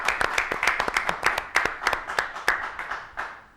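A small group claps in a television studio, sparse and uneven, with distinct individual hand claps in a loose rhythm that thins out and fades toward the end.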